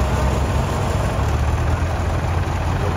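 A Fordson Super Major tractor idling at a local tractor run, a steady, close diesel rumble that holds an even, unbroken tone throughout.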